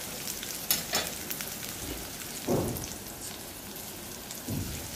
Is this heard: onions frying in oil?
yes